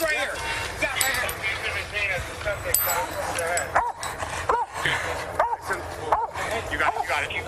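A police dog barks and yips in short bursts during an armed standoff, heard under tense shouting from officers giving commands.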